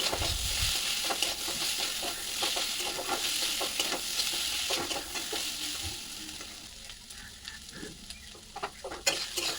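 Taro stolons and crab sauté with cumin and chili powder in a pan, giving a steady close sizzle broken by frequent scraping stirs, and the hiss fades somewhat toward the end.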